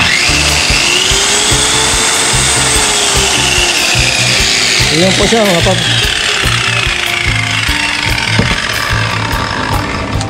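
A Stanley SC16 1600W 184mm circular saw runs freely at high speed with a steady, loud whine throughout, while a voice talks briefly over it.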